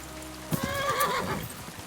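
A horse in Kingdom Come Deliverance 2 whinnies clearly and close, a rising, wavering neigh over soft game ambience, with faint hoof clops and a light rain-like background hiss.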